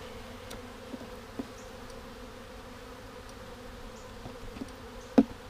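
Low, steady buzzing of many honey bees close by at a hive, a continuous drone with a few brief louder passes of individual insects.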